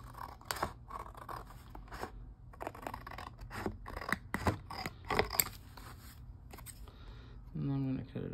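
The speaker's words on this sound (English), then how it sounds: "So now I'm just going to cut this" Scissors snip through paper for journal tags in a run of irregular, close cuts, crisp and separate, with rustling handling between them and a soft voice briefly at the end.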